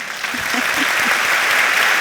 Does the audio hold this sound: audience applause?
yes